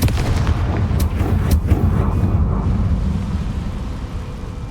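A Confringo fire spell explodes in the Hogwarts Legacy video game, a loud burst of blast noise followed by a rumbling, crackling roar that fades slowly over several seconds.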